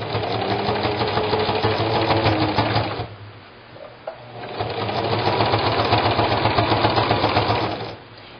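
A sewing machine quilting a quilt top runs in fast rhythmic bursts, pausing briefly midway with a faint click before resuming its steady close whir.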